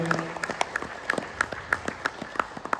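An audience at a company prize event claps to welcome a guest onto the stage, a loose scatter of distinct individual claps and short bursts, fairly close, with a brief faint voice at the start.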